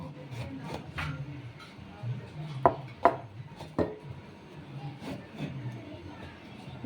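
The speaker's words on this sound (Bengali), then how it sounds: "দিয়ে এগুলোকে আমি সরু সরু যেভাবে ফ্রেঞ্চ ফ্রাই কাটা হয় ঠিক সেভাবে কেটে নেব।" A knife cuts pointed gourd into thin, French-fry-style strips, giving a run of soft, irregular chopping knocks with a few sharper taps in the middle, fairly quiet, with faint speech in the background.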